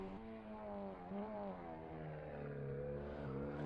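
Race car engines roar in a Long Beach street-circuit racing video game, a sustained rising and falling whine of revving motors heard steadily and moderately loud, with no speech.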